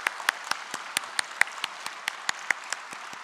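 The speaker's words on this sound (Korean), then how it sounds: "우리 축복의 박수 보내드렸으면 좋겠습니다" Sparse clapping from a church congregation honours parents and grandparents on Parents' Sunday, with individual sharp claps in a slow, uneven rhythm.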